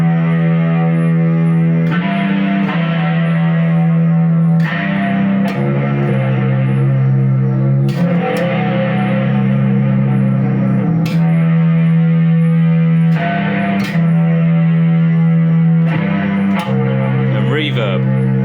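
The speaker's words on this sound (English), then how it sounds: "what I use is the slow gear at the top there, slow gear. Then I have a bit of muff fuzz" Bass guitar run through a Boss ME-50B multi-effects pedal with slow gear swell, muff-style fuzz and reverb, giving a thick, dirty synth-like tone. Loud sustained notes swell in and change pitch every few seconds, with no talking.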